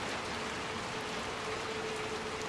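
Steady rain falling in the video game Little Nightmares 2, a soft continuous hiss of drops with no voices over it.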